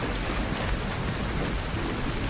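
Continuous rain pattering densely on a surface, with a faint low thunder rumble beneath it, used as background ambience in a tabletop role-playing game; steady and even throughout, with no talking.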